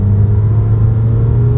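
A McLaren 720S engine revs as the throttle is pushed. It gives a loud, close, deep droning roar that holds steady with a slight pulsing, and no one speaks.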